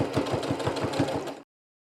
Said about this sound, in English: I'm going to hold both the top and the bobbin thread right here while I take about 2 stitches forward and back